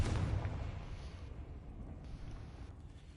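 A muffled explosive boom from the Confringo fire spell in the Hogwarts Legacy game, a dense rumbling burst that fades into a sustained low roar, with no talking.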